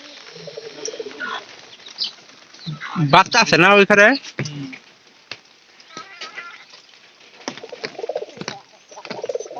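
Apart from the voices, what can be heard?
racing pigeons cooing in the rain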